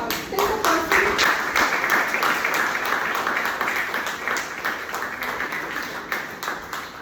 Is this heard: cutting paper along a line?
no